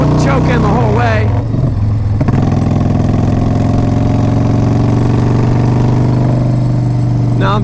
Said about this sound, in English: Now that I'm giving it some throttle, I'm going to put the choke in the whole way.